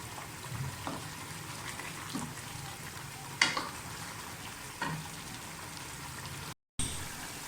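Lauki (bottle gourd) and meat sizzle and fry in a pan, a steady close hiss broken by a few sharp scraping strokes of a spoon stirring through, with no talking.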